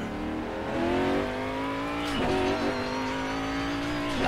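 A Mercedes-Benz CLR-LM racing car's big V8 in Assetto Corsa roars loud and close, its raspy note climbing, dipping briefly at a gear change around two seconds, then pulling steadily again.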